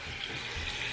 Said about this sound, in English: I'm then going to get in my water. And we just want it to reach the top of the pasta.